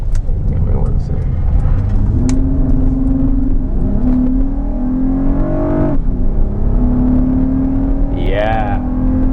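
A third-generation Honda Odyssey minivan with a 255-horsepower engine pulls out and accelerates onto a straight road, its engine note climbing through the gears from inside the cabin, with a steady drone and a brief rising whine near the end.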